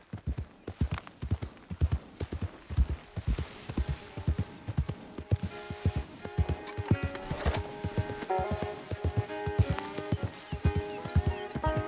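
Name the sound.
horse hooves clip-clopping in a video game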